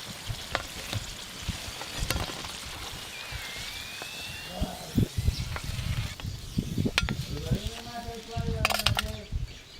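Crispy khasta snacks frying in hot oil in a village kitchen, a steady soft sizzle with occasional stirring clinks and scrapes, heard close and continuous with some background movement.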